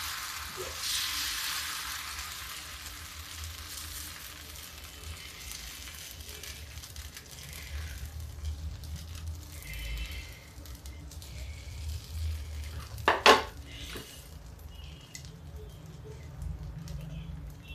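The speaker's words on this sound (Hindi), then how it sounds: "एक चमचा भर के मैंने बीच में डाला है और इसको धीरे धीरे करके इसे गोल सेक दे दीजिए" Urad dal and rice dosa batter cooks on a hot pan with a soft, steady sizzle, faint throughout, with a short sharp clatter near the end.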